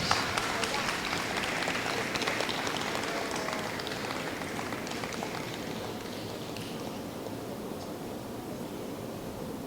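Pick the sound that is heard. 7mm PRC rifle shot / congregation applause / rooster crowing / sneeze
congregation applause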